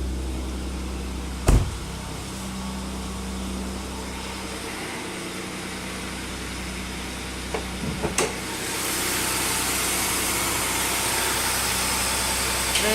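A 2003 Ford Taurus idling on a cold block after a cold start, a steady mid-pitched engine drone held close for the whole stretch, broken by a couple of sharp knocks and a slight rise in hiss near the end.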